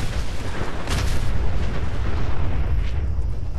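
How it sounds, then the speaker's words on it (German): Explosion in the video game Fallout 4, a broad rumbling boom with a sharp burst near the start, sustained loud low-end roar throughout with no speech over it. "Und der explodiert gleich noch."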